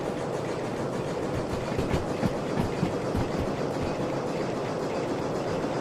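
Continuous rumbling chuff and rolling clatter of an S282 steam locomotive running and building speed in the Derail Valley train game, steady and loud with a dense rhythmic clack and no talk.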